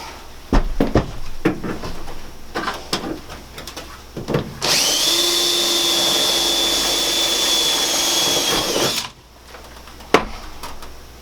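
A power tool whirs steadily for about four seconds while setting rivets into the frame of a Sprinter 170 van, close and loud, framed by sharp clanks and handling knocks before and after.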